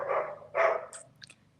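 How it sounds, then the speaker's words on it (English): A dog gives two short barks in quick succession, followed by a few fainter high yips, fairly close and clear against a quiet background with no talking. "Shout out to the dog"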